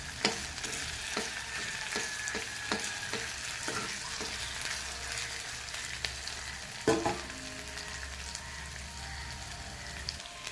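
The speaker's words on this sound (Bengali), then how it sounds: "আদাটা এখন এইভাবে ভাজা হবে, জাস্ট আমার আঁচটা একদম কমে আছে" Ginger and potato fry gently in oil over very low heat, a soft continuous sizzle with a run of light, evenly spaced spatula taps early on and one louder knock later, close and quiet, with no speech.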